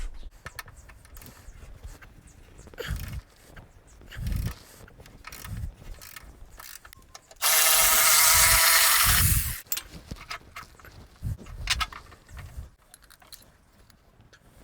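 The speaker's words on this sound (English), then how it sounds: "So now we can take off the 17 millimeter bolt off to remove the motor mount." A ratchet wrench works loose a 17 mm motor mount bolt on a 1990s Toyota Tercel, sounding as close bursts of clicking and metallic rattling with a loud, steady broadband burst partway through.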